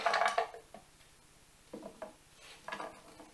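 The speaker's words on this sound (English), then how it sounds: "I'm gonna just put the apples in the pan." Apple pieces drop into a pan on the stove with a few scattered knocks and clatters, then a soft stir and a faint sizzle between the bumps.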